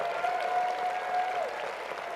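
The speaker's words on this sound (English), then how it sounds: "Longest applause in the history of the University of North Dakota." Graduation crowd at a University of North Dakota winter commencement keeps up a long, even applause, fairly faint and distant, with a thin steady tone running beneath it.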